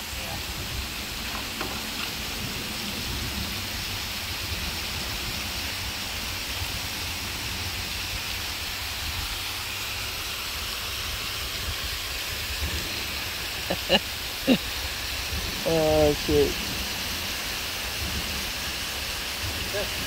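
Rain falls steadily on an anchored boat, a constant broadband hiss of drops on the deck and water running through it, with a few people talking and exclaiming briefly near the end.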